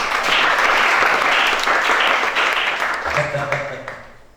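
A church congregation applauds and cheers loudly during a worship service, a dense sustained wash of clapping that fades toward the end while a preacher's voice carries over it.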